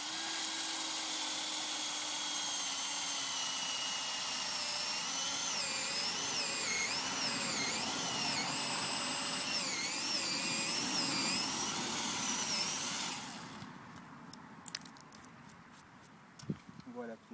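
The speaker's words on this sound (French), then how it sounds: "On se munit d'une foreuse avec un embout de 8 à 10 mm environ, et je vais simplement forer un trou" A power drill with an 8–10 mm bit bores a hole into a birch tree trunk, a steady high whine running loud and continuous for about thirteen seconds before stopping, followed by quieter handling noises and a few sharp knocks outdoors.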